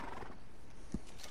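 Horse in Red Dead Redemption 2 giving a brief neigh with hoof clip-clops, heard close over steady game ambience, with one sharper thud near the end.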